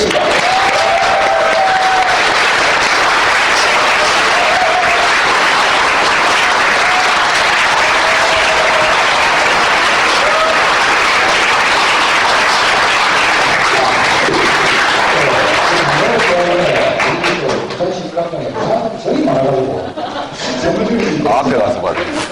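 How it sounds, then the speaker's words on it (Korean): Sustained, loud applause from an indoor audience in Busan welcomes a former health and welfare minister to a lecture on the 2012 presidential election; the dense clapping fills most of the stretch before thinning near the end, with voices and some laughter mixed in. "여러분의 큰 박수 부탁드리겠습니다."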